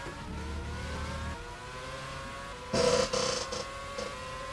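Simulated Formula 1 race car engines in rFactor during a Malaysian Grand Prix, a steady high-revving whine with a louder burst of passing cars midway, no talk.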